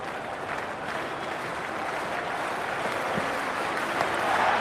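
A stadium crowd in a cricket video game roars and applauds in a steady, dense wall of noise that swells slightly toward the end, heard alone without talk.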